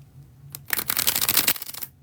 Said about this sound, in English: I'm going to go ahead and do the second and final bridge shuffle for y'all.